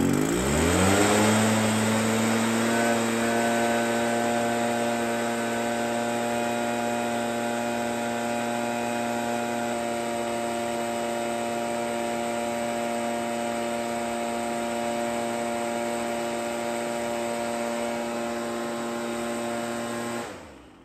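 A Stihl small two-stroke engine locked at full throttle on a temperature test, revving up at the start and then holding a loud, steady, buzzing drone with a strong harmonic whine until it cuts off at the end.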